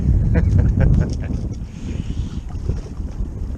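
Wind buffets a small boat out on a marsh, with rough low rumbling gusts against the microphone and faint water sounds, strongest at the start and then steadier.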